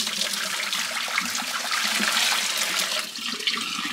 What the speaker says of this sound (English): time to pour this water out of the coffee maker.